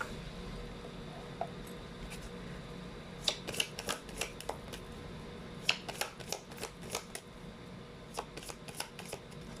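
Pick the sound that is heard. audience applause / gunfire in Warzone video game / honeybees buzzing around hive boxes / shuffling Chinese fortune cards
shuffling Chinese fortune cards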